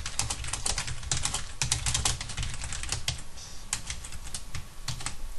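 Rapid typing on a computer keyboard while editing a Wikidot web page, a steady close clatter of key presses with no speech.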